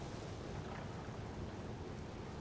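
A storm roars in the video game Horizon Forbidden West, whipping up a sand spiral as a dense, unbroken rumble of wind and weather with no speech.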